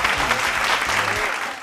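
Students at a junior college game show clap loudly together, a dense burst of applause that fills the short moment and tapers slightly at the end.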